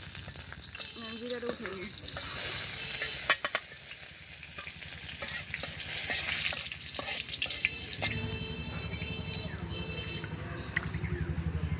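Oil and a few leaves frying in a pan during simple Bengali village cooking give a steady, close sizzle with stirring clatter, running under a brief spoken remark.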